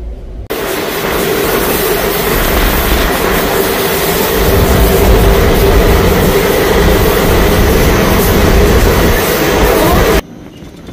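A passenger train rolls along on a long-distance Tirupati to Goa run, giving a loud, steady rumble with low clatter close by that runs the whole length, then stops abruptly near the end.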